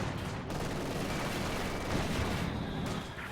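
Dense, continuous battlefield fire from an MG34 machine gun in the strategy game Company of Heroes 2, a loud rumbling wash of shots and distant explosions with no clear gaps.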